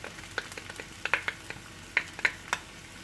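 Crème fraîche being stirred into pasta pearls with turkey, bacon and small vegetables, giving soft, sporadic wet clicks and scrapes of a spoon in a pan, close and fairly quiet, with no voices.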